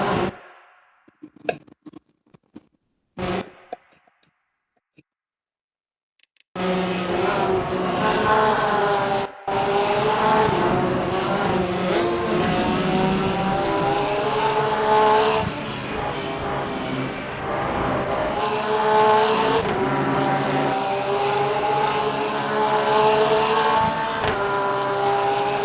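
A Corvette race car overtakes in Le Mans Ultimate at Barcelona. A few sharp clicks come first, then a loud, steady engine roar with shifting revving tones that holds for about twenty seconds.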